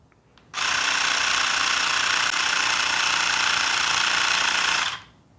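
An electric tire pump inflates a street tire, running as a steady, loud buzzing drone for about four seconds. It starts and stops abruptly, with no talking.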